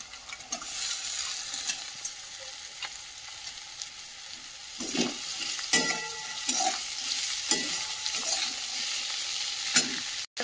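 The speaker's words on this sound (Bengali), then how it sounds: "একটু ভেজে নেওয়ার পর এবার সবজির খোসাগুলোকে দিয়ে দেবো" Vegetable peels frying in oil with nigella seeds, a steady close sizzle running throughout, broken by occasional stirring scrapes and knocks of a spoon against the pan.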